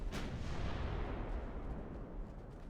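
Shell hits landing on a warship in the naval game Ultimate Admiral Dreadnoughts, a sharp opening boom that rolls into a long, loud rumbling decay, with no talking.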